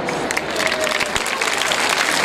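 A crowd at an outdoor children's night concert in an Italian town square claps loudly and continuously, dense close applause with a few sharper individual claps standing out.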